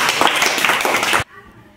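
Children in a classroom clap together after a maths activity. A dense, loud round of clapping lasts just over a second and then stops abruptly into quiet.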